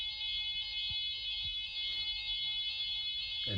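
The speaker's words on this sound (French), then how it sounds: "Il y a l'alarme qui sonne." A fire alarm sounds in a residential building late at night. Its shrill electronic tone rings without a break, loud and close, with faint movement underneath.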